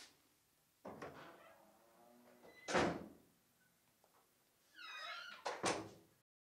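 Car doors thud shut at night a few times, each a close, sharp slam separated by pauses, with faint creaks and a brief high squeak between them.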